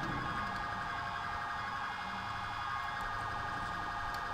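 Emergency siren in the GTA IV game, a steady wailing tone running continuously and fairly loud throughout, with no talk.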